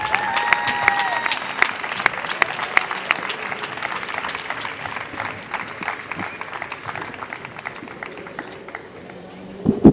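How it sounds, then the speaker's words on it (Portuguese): A crowd applauds the finalists at the national padel championship final, steady clapping throughout with a voice speaking over it. "Peço também uma grande salva de palmas para Diogo Rocha e João Bastos."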